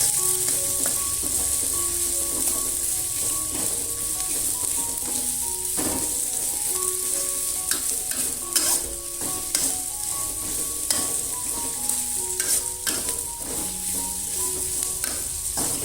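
Thinly sliced onion sautéing in a pan, with a soft steady sizzle and frequent scraping stirs close by, set against quiet background music with no talking.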